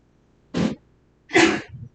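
Two sneezes in a quiet room, a short sharp one followed by a longer, louder explosive one with a brief breathy tail.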